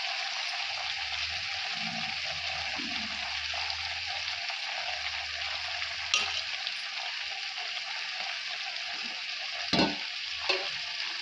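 Eggplant slices fry in plenty of hot oil, giving a steady, close sizzling hiss throughout, with a few soft stirring clicks and knocks near the end.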